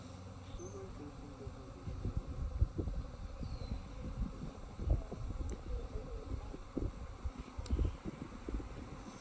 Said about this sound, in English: Here you can see all the bees that are flying, trying to protect their hive